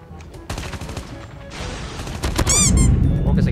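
An AK-117 rifle in Call of Duty Mobile fires rapid bursts of automatic gunfire that build into a dense, loud barrage. Game effects and chirps layer in near the end.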